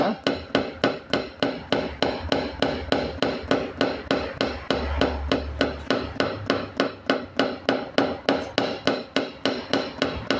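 Paintless dent repair on a Renault Kwid fender: a hammer taps the metal in a fast, steady rhythm of about three strikes per second, close and clear, with no talking.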